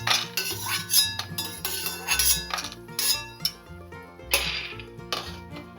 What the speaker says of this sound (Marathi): आपण तेलाच्या वस्तू वेगळ्या भांड्यात काढणार आहोत.